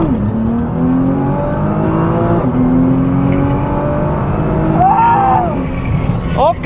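A Nissan GTR Nismo 2022 accelerates hard in second gear, its engine note rising steadily and loudly with a brief shift blip near the end, close and continuous.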